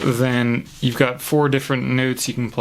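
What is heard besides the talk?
No everyday noises stand out.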